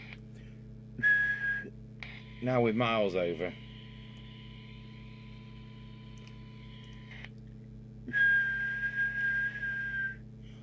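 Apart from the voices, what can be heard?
heterodyne whistle from PNI HP62 radio during alignment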